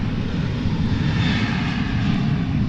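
A Boeing 787-9 Dreamliner jet passing over Dallas Fort Worth airport, a loud continuous roaring engine rumble with broad airy noise, steady throughout and heard alone.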